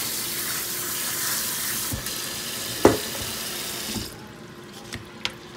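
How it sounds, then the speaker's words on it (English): Cold water runs steadily from a kitchen tap over canned black beans in a colander, a close, even rush with a few small knocks, then it cuts off and only faint clinks follow. "So now I'm gonna take some cold water and I'm gonna rinse my black beans."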